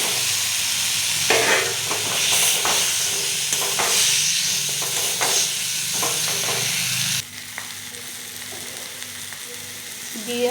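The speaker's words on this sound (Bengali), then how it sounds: "এবার আমি দিয়েছি ভাজা আলুগুলো" Fried potatoes land in a pan of spice paste cooked down in oil for aloo dum. A close, steady sizzle and hiss with scraping stirs carries on, then eases abruptly to a softer fry.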